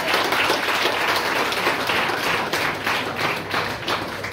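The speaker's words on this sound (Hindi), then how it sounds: "एक जोरदार तालियां हो जाए इसके लिए।" Loud, dense applause from a seminar audience on religious harmony, organised by a police battalion at a college, fills the whole stretch steadily without pause.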